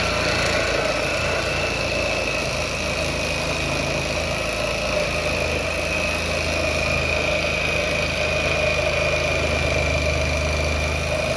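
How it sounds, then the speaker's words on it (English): A Sawzall reciprocating saw cuts along the front upper control arm of an NC Mazda Miata to remove its bushing, giving a loud, continuous buzzing drone close by with no talk. "for that I use a Sawzall, and I'm going to kind of go parallel with the control arm itself."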